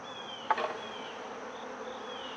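Honeybees being shaken into a hive during an inspection make a soft, steady close buzz, with a brief louder bump and flurry of buzzing near the start, then a continuous hum.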